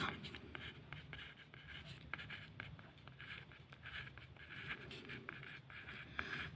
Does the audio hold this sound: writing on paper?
yes